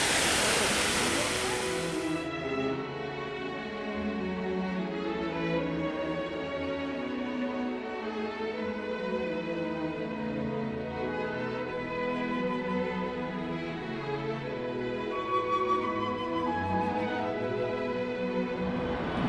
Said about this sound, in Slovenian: Dober ta vodomet na tem trgu.